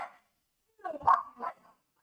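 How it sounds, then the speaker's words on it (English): A few short dog barks at moderate distance, one brief yelp then a pause and two or three more barks in quick succession. "now I need to check that my dog is barking"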